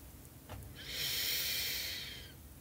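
A single slow, close breath during meditation, drawn through the nose as a soft hiss that swells and fades over about two seconds, with no talking over it.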